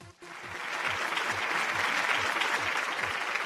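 A studio audience on a Malayalam TV game show applauds a contestant. After a brief pause, dense clapping swells in and holds steady and loud for about three seconds.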